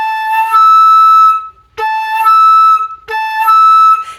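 A flute sounds three sustained tones, a clear A followed by a lipped-up harmonic E, with brief breath-like attacks between notes; bright, close and loud, with no speech.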